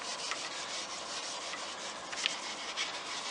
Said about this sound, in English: I just apply it to a 4/0 steel wool and rub it into the finish